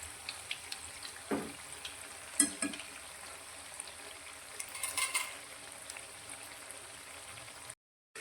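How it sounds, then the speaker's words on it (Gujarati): Fresh fenugreek snack frying in hot oil sizzles softly and steadily while a utensil turns the pieces over, giving a few sharp scrapes and taps before a brief drop into silence at the end. "તો હવે તેને આપણે આ રીતે ફેવરી લઈશું અને બીજી સાઈડથી પણ એકદમ સરસ એવો ક્રિસ્પી થાય તે રીતે તળીશું."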